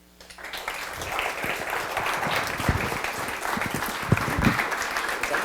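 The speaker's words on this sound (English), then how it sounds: "give her another round of applause" Sustained applause from a tech meetup audience after a talk, dense steady clapping that rises quickly and continues at even loudness throughout.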